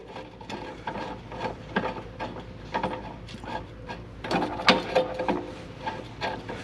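Ratchet clicks and metallic knocks from tightening a bolt on a Case IH 2160 planter frame, a busy run of irregular close mechanical rattles and clacks with no talk.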